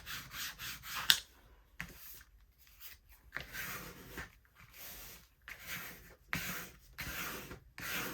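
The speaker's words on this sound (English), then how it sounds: "Burnish it down." Paper is burnished down onto a botanical journal cover in repeated close rubbing strokes, each a short scratchy swipe separated by quiet gaps, with no speech.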